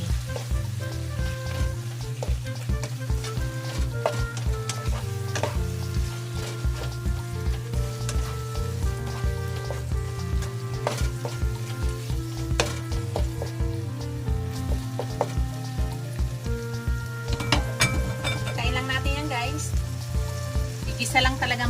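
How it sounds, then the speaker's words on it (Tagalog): Bagoong alamang shrimp paste sautés in a pan with a dense, steady sizzle and repeated scraping stirs, close and continuous throughout. "Igisa lang talaga muna maigi natin."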